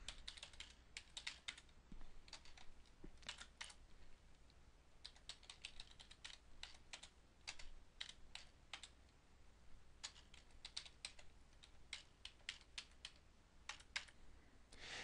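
Keys clatter on a computer keyboard as a command is typed, in irregular quick bursts of clicks with short pauses, close and fairly quiet against a low steady hum, with no talking.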